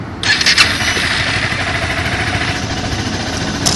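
A 2012 Honda CBR250R motorcycle engine cranks and catches, then settles into a steady, loud, close rumble with a raspy idle.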